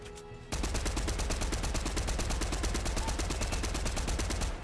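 Sustained rapid gunfire in Fortnite hammers out a steady, fast rhythm of shots, loud and close, beginning abruptly after a quiet moment and running almost to the end.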